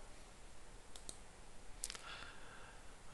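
Computer mouse clicking during software work, just two faint, isolated clicks about a second apart over a quiet background hiss.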